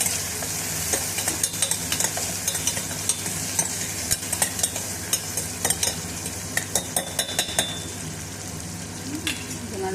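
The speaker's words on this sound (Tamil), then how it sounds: "வெங்காயம் நல்லா வணங்கிடுச்சு" Onions sauté in a pan for a sprouts and green dal rice dish, a loud continuous sizzle broken by frequent sharp spatula scrapes and taps against the pan.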